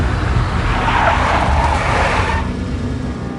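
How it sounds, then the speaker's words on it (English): A big black Mercedes skids in the video game Max Payne, a loud, sustained rush of engine and tire noise lasting a few seconds without speech. "A big black Mercedes."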